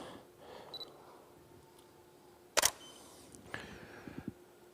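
A sharp camera shutter fires once, close and crisp, followed by a softer mechanical click and a few faint clicks in an otherwise quiet room.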